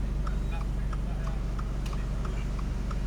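A Toyota GR86 fitted with an AWE Tuning exhaust idles steadily once warmed up, a low, even drone with faint periodic ticking over it.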